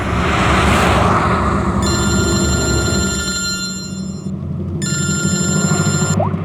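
A telephone rings loudly in two long electronic bursts over a steady vehicle rumble, as if heard inside a moving car, with no talking.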